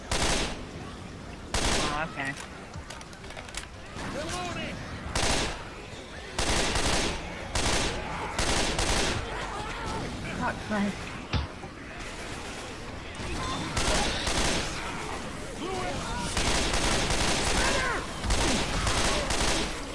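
Rapid bursts of gunfire from the video game Left 4 Dead 2, loud and near, with repeated shots and volleys running through the whole stretch while players talk over the top.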